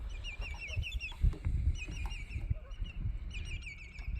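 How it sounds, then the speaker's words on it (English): Ducks and geese call from a lake beach in a state park, with repeated honks and quacks at moderate distance, faint thumps and low background rumble beneath them. "Got some ducks, some geese,"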